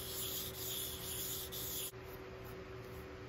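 Hair clipper blade stroked back and forth on a fine sharpening stone makes a soft, continuous close-up rubbing hiss with faint rhythmic pulses, steady throughout and with no voices.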